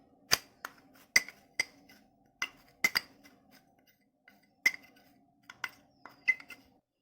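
A metal spoon clinks against a bowl while coffee powder goes in for a biscuit milkshake, a series of sharp, bright taps spaced irregularly and close up, with quiet pauses between.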